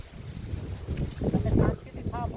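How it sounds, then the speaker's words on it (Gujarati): Strong wind buffets the microphone outdoors near coconut palms, a continuous low rumbling gust that swells toward the middle, with faint voices underneath. "પવન પણ જોરદાર છે એટલે પાડવામાં થોડીક વાર લાગશે"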